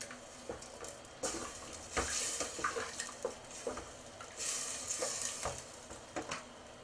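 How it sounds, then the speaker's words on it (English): A spoon stirs tarragon into a gently sizzling sauce in a pan, with soft scraping and occasional taps against the pan over a low steady sizzle, close and fairly quiet, no speech. "and a tablespoon of tarragon. We'll stir that in."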